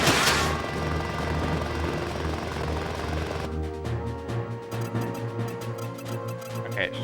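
Helicopter rotor drone from the video game Front Mission 4, a steady low throbbing hum amid game effects and music, shifting partway through as the scene changes, with no talk over it.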